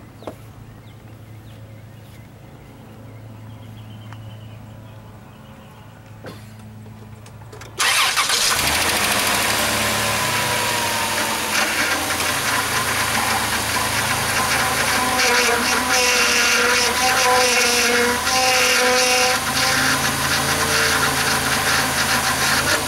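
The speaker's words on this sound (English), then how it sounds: "So what we're going to do now is we're going to get it started up," A 2005 Dodge Grand Caravan SXT engine cranks and catches after a quiet stretch, then idles loud and steady up close with a faint whine, running on for the rest of the clip.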